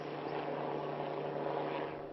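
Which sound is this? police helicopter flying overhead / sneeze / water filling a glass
police helicopter flying overhead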